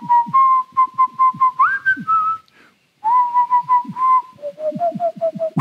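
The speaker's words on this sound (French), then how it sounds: "on va essayer de siffler" Someone whistles a simple tune in two short phrases with a brief pause between, over soft rhythmic thumps in the background.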